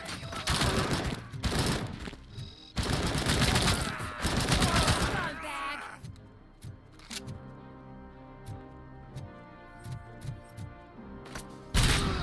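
Dense bursts of gunfire in the video game Robocop: Rogue City, rapid volleys in the first half, then sparser scattered single shots and impacts, fairly loud and close.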